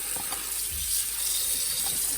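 Tap water runs steadily into a sink while pickle slices are rinsed for bread and butter pickles, a continuous close hiss and splash with no talking.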